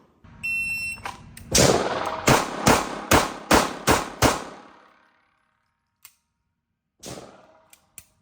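A Beretta M9 pistol fired in single action at a range, with a beep followed by a rapid string of six sharp, loud shots in quick rhythm, then a couple of isolated later clicks and a beep.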